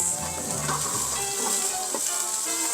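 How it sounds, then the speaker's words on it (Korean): Chicken thighs sizzle and fry inside an oven set on a wood-burning stove at a winter campsite, a steady close crackling hiss with soft spattering pops throughout and no talking. "우와, 이 안에 지글지글 소리 나."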